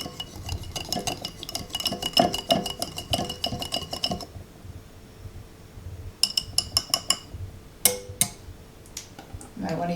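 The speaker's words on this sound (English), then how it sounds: "And mix it all together." Melted beeswax, cocoa butter and coconut oil whisked by hand in a pot, giving repeated light metallic clinks and scraping taps in uneven bursts, close by, with brief pauses between stirring spells.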